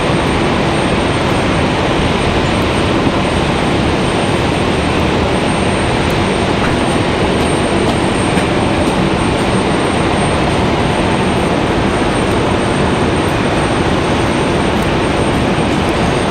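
A Cessna Citation business jet roars steadily and loudly near Raleigh-Durham International Airport, a continuous broadband engine rush with no speech.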